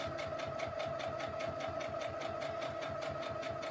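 A sewing machine stitches a quarter-inch seam on a small quilted fabric coaster, a steady rapid mechanical whir with a fast even needle rhythm, running alone at close range.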